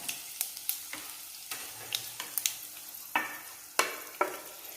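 Fenugreek seeds, curry leaves and dried red chillies sizzling in hot oil for a Kerala ginger curry, a steady crackle with sharp spitting pops and stirring scrapes, close, no talk.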